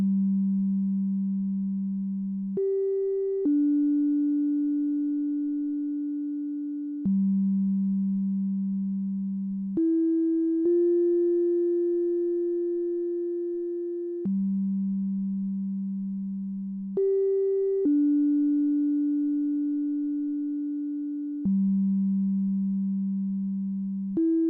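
Looping ambient modular synthesizer patch playing a full bar of pure sine-like tones, a slow sequence of sustained notes changing pitch every few seconds and repeating the same pattern, clean and steady with soft decays.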